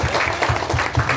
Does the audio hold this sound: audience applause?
yes